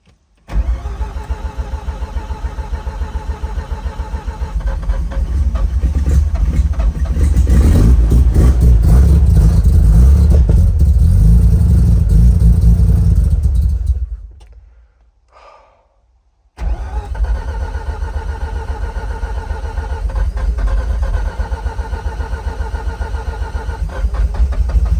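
A Mazda RX-5 rotary engine cranks and catches, then revs loudly and roughly for several seconds, cuts out briefly, and fires again into a steady, close idle.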